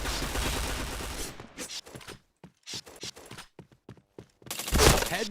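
Video game gunfire in rapid bursts of sharp shots with short gaps, ending on a loud final shot for a headshot, close and dry with no talking.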